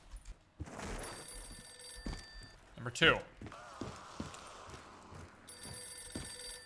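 A telephone rings inside a zombie video game map, its bell ringing in bursts near the start and end, mixed with game effects, footsteps and a loud hit in the middle while a player talks.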